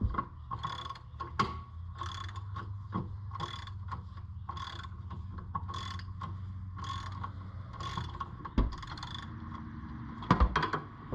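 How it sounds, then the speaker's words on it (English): A ratchet wrench clicks in quick repeated bursts while loosening the rear exhaust hangers on a Ford Mustang GT during a Borla S-Type exhaust install, with close metallic ratcheting and faint clanks. "Just wrench these off, and then you can lift them up and then drop the whole system out."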